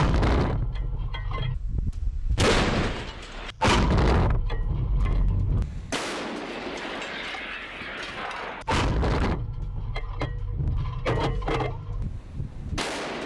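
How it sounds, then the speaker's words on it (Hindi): A Russian T-72 tank shells a Ukrainian bunker near Kupiansk, producing a series of loud, sharp blasts spaced a few seconds apart, with wind buffeting the microphone and rumbling noise between the shots. "कुपियांस्क में रूसी टैंक की ताबड़तोड़ शेलिंग। ब्रेक करिए, ये देखिए जरा, T-72 टैंक से यूक्रेनी बंकर तबाह कर दिए गए।"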